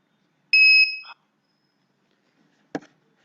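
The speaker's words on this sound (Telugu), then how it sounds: "అలా బీప్ అన్న శబ్దం వచ్చిన తర్వాత బీపీఎం లాగిన్ అయినట్టుగా భావించాలి." A BPM DARPAN RICT handheld device sounds a short electronic beep after a fingerprint login: one clear, steady two-tone chirp lasting about half a second, followed later by a brief soft click.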